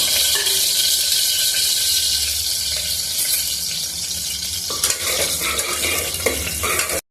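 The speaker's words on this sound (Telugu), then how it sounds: "షాజీరాని కూడా కొంచెం వేయించుకున్నాము" Whole spices, bay leaf, cloves, cardamom, cinnamon and shahjeera, fry in hot oil in a pan, crackling and sizzling steadily up close while a utensil stirs, the sound shifting briefly near the end before cutting off.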